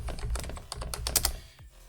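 Rapid clicks of a computer keyboard as someone types a location into Google Maps, a close, irregular burst of keystrokes that stops near the end.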